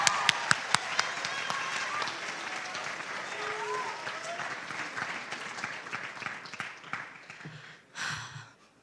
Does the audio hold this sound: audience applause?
yes